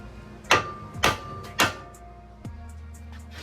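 A hammer strikes a car suspension part on an Acura RSX Type S during a suspension upgrade: three sharp metallic whacks in quick succession, then a fourth softer knock after a short pause, in a quiet garage.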